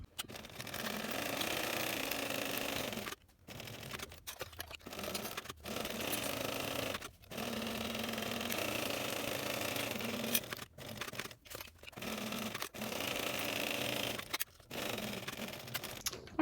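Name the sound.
sewing machine sewing backpack side seams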